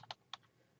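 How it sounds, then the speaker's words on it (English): Two quick keystrokes on a computer keyboard while typing a search word, close and soft, with a short pause between them in a quiet room. "So I'm going to type in the word"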